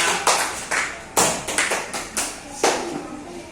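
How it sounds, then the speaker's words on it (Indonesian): A group of children clap together in a loose, uneven rhythm, sharp hand slaps overlapping at close range for a few seconds. "Tepuk tangan dulu buat teman-temannya."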